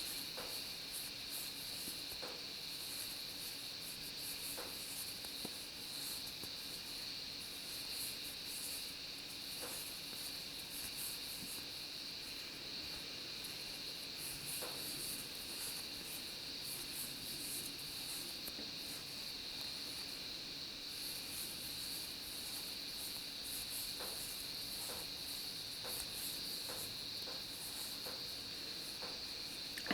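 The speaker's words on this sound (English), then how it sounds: "It's a really bad year for cicadas here too, by the way. So that is why you can hear them in the background." A steady, high-pitched insect drone runs throughout, unbroken and fairly faint, like cicadas buzzing in the distance, with occasional soft clicks and no talking.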